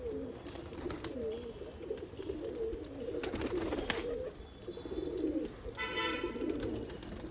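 Soft cooing of a female pigeon mingles with low, rumbling background noise, while brief chirps and a faint toot come through from farther away.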